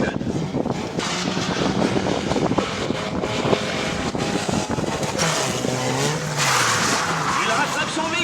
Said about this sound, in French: pilote va vous présenter une série de dérapages contrôlés